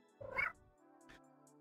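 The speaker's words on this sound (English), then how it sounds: "I heard the meow." A cat meow sound effect from a video game level: one short, quiet meow followed by a fainter second mew, clean and isolated with no voices.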